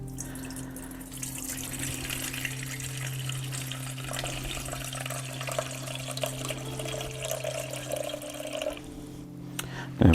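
Water runs steadily from a tap into a measuring container while strawberry soap is being made, a continuous close hiss and trickle lasting several seconds, with no talking.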